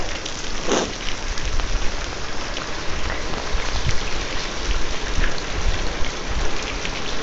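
Steady rain falling on a military-style rain poncho: a dense, continuous patter of drops drumming close by, with occasional heavier taps and a brief louder rustle near the start, no voices heard.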